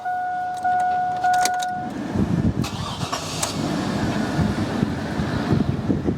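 Used truck with a 5.3 engine, first a steady tone like a key-in chime, then the starter cranking briefly before the engine catches and settles into a loud, close, rumbling idle.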